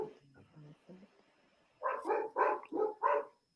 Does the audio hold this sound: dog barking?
yes